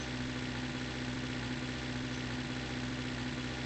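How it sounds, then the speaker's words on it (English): A petrol car engine idles in the driving game The Long Drive, a steady low hum with a constant drone, unbroken and fairly quiet throughout. "Still running the petrol engine."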